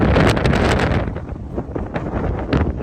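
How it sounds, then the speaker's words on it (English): Strong dust-storm wind roaring through a tin roof, a dense rushing blast with buffeting gusts against the microphone, loud and close, easing slightly midway before surging again, with no talk. "You can hear the wind coming through the tin roof."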